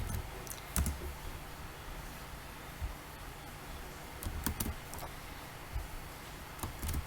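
Scattered clicks and short bursts of typing on a computer keyboard as a program is copied and pasted, quiet and close with irregular pauses between keystrokes.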